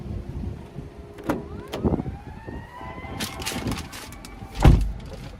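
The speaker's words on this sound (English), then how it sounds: "But now let's go ahead and hop in the driver's seat." Someone climbs into the driver's seat of a 2022 Toyota RAV4 TRD Off-Road, giving close rustles and a solid thump as the door shuts near the end, with faint mechanical whirs and chimes before it and no talking.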